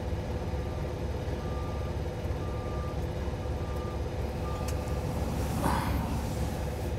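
Steady reversing beeps pulse from a truck backing up while crushed cars are loaded, set over a constant low engine rumble, with one brief louder burst of noise near the end.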